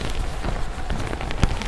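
Rain falls steadily outdoors, a dense close hiss of drops pattering on surfaces with an occasional louder splash, continuous and without talk.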